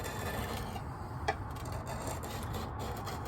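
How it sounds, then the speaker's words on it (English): Steel file rasping along the edge of an antique handmade Bowie knife blade, a steady continuous scraping texture close by with one brief sharper click partway through, no talking. "I'm finding this file to be more useful in reprofiling the edge here."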